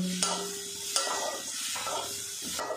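Chira and green pea filling stirred in a pan, a steady close sizzle with rhythmic scraping strokes and a few sharp clicks of the spatula.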